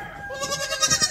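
Goats bleat on a farm where young kids are kept, a wavering, quavering cry that rises and pulses close by, with no talking.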